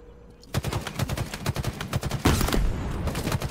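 Rapid gunfire during a Halo multiplayer match on a classic map: a quick run of sharp shots begins abruptly and continues as a steady rattling burst, loud and close, with heavier impacts layered in near the end.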